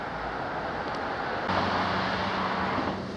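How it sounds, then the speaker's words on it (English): Continuous road traffic roar from vehicles passing near a riverside footpath on the edge of East Peckham, a broad steady rush that swells slightly as a vehicle goes by, with no talk. "Been able to hear the traffic and motorbikes, etc. pretty much throughout."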